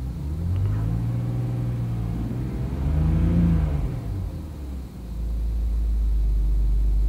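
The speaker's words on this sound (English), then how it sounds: "Gonna rev it." A BMW 328xi with a rough idle and cold-start stalling revs up, the engine note rising to a swell and then falling back to a low, steady rumble, heard close and alone.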